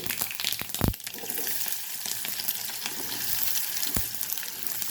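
Onion frying in hot oil with mustard seeds and cumin for eggplant bharta, giving a steady loud close sizzle with a couple of sharp clatters of a spoon or pan, no voices.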